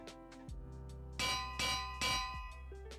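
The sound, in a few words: bell ringing in a video game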